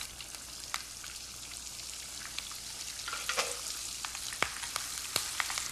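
Dry spices and curry leaves sizzle in hot oil for beef rendang, a steady close frying hiss scattered with sharp pops and crackles, no voices.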